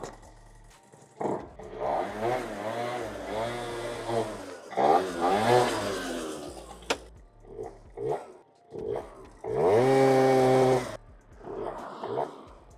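A Zip scooter engine revs in uneven bursts, rising and falling and sputtering between short pauses, with a hard steady roar near the end.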